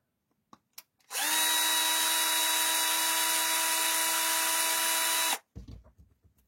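A power driver unscrews a screw on a Losi Promoto MX motorbike with one steady, loud whirring run of about four seconds, with a few light clicks before and after.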